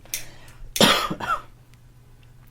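A couple of harsh, close coughs in quick succession, followed by quiet and a faint click at the end.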